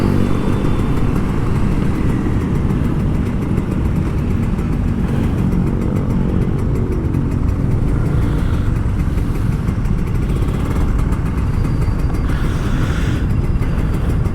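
A Kawasaki Ninja RR 150 two-stroke motorcycle runs steadily close by, its dense, continuous engine rumble holding at an even idle-like drone with no voices throughout.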